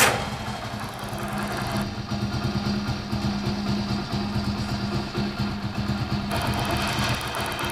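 A kick-start motorcycle running on a homemade bike battery idles steadily up close, a continuous low throbbing engine rumble with a faint rattle and no talking.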